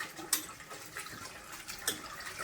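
Tengra fish are rinsed in water, with a soft splashing and sloshing plus a couple of sharper knocks of handling, close and quiet.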